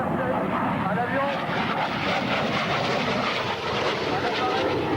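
A Harrier GR7 jet roars loudly and steadily at a 1993 air show at Cambrai air base, a broad continuous engine rush under a commentator speaking over the public address.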